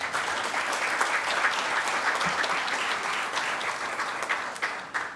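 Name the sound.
audience applause welcoming a lecture speaker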